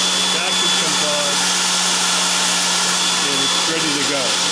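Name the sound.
vacuum running on blast cabinet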